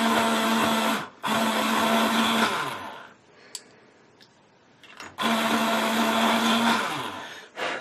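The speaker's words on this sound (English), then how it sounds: "I've been using my electric sharpener again because it really, really gives me a nice point." Electric pencil sharpener grinding a coloured pencil, two loud whirring bursts of a couple of seconds each separated by a quiet pause, close up with no talking.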